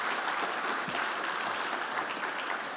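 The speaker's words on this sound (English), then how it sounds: "Big round of applause for Carlos." An audience at a space resources conference gives steady, dense applause, a continuous wash of clapping at moderate loudness with no talking over it.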